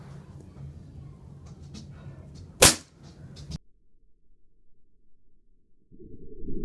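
An airgun fires a standard, unmodified pellet: one sharp, loud crack standing out alone against a low background rumble, with a fainter follow-up snap just after.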